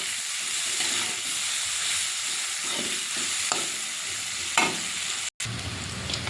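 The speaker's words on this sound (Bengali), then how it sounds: "পেঁয়াজ রসুনটা ভাজা ভাজা করে নেব।" Onion and garlic frying in a pan for a village-style prawn curry, giving a steady broadband sizzle with faint stirring scrapes and a short clatter near the end.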